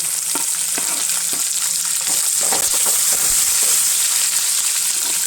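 Urad dal crackles and sizzles in hot oil in a pan while cooking North Karnataka style vermicelli upma, a close, steady frying hiss dotted with sharp little pops and stirring clinks.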